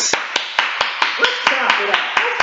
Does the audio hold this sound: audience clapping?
yes